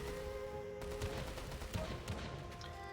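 Artillery fire in a Russo-Japanese War video game as guns shoot down Fugo balloons, a busy stream of rapid distant booms and cracks layered over a dense, continuous battle din.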